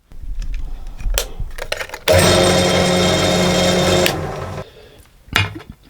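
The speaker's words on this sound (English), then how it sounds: "Now I'm going to use this drill press to make sure that the hole is exactly perpendicular" A steady, loud whirring grind from a drill press runs for a couple of seconds between quieter clicks and handling noises.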